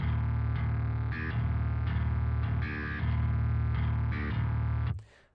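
Soloed distorted electric bass from the Circuit Bass plugin, chugging in loud, tight rhythmic breakdown-style palm-muted notes, then stopping abruptly with a short ringing tail.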